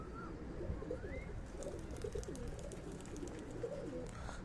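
Pigeons of a Punjabi chatri breed coo softly and repeatedly in a village while feeding on grain, with faint chirps over a steady low background hum.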